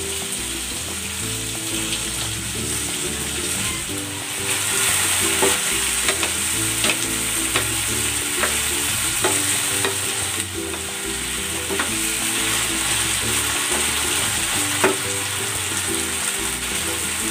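Marinated chicken for pininyahang manok sizzles in a hot pan, a steady close hiss of frying that grows louder a few seconds in, with occasional stirring scrapes over faint rhythmic background music.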